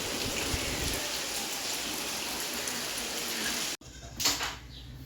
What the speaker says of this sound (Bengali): একভাবে বৃষ্টি হয়ে যাচ্ছে থামাথামির কোনো নামই নেই